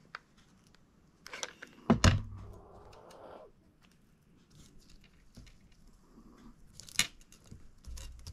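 Scissors snip small circles out of plastic biscuit-packaging material while crafting, giving a few close, sharp cuts and rustles with quiet pauses between them.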